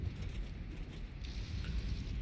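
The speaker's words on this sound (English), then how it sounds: "Rocket barrage incoming." Pharah's rocket barrage in Overwatch 2, a faint continuous rumble of many overlapping explosions heard at a distance with no talking.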